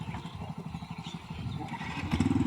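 Motorcycle engine chugging low and unevenly as the bike is moved along a dangerous, rough road, close by and steady, with a rattling clatter of the machine.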